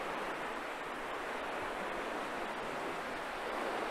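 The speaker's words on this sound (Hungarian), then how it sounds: "Oxigéndús valószínűleg azáltal, hogy itt kavarog a víz." Churning, oxygen-rich river water swirling at a perch fishing spot in autumn, a steady broad rushing roar throughout, close and continuous with no talk.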